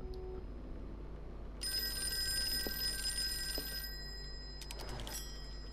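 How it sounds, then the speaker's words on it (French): An old telephone bell rings in a short burst of a couple of seconds, followed by a fainter clattering ring, over a quiet hum in an indoor room. "je crois qu'il y a le téléphone qui sonne"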